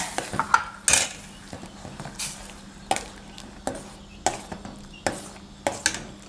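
A spoon scrapes and taps against a pot while coconut-milk tom kha sauce with mushrooms is stirred, giving a steady series of close clinks and knocks every half second or so, with a faint simmer underneath.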